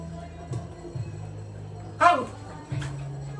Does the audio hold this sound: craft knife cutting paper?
no